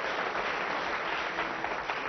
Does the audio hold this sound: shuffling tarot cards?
no